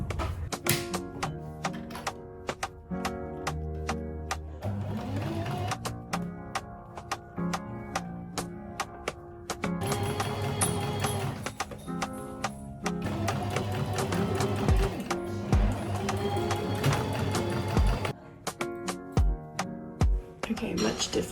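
A sewing machine stitches garment pieces together in quick mechanical rattling bursts, stopping and starting several times with short pauses between runs, close and clear.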